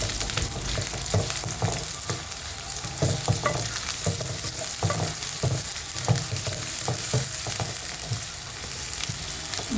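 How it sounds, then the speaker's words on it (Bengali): Onion, garlic and chilies sizzle steadily in a hot pan, with repeated scraping and stirring knocks throughout, close by. "কাটা পেঁয়াজের সাথে রসুনগুলা ভালো করে ভেজে নিতে হবে"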